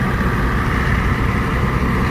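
An International 1206 Wheatland tractor engine idles nearby with a steady, loud, low rumble that holds even throughout.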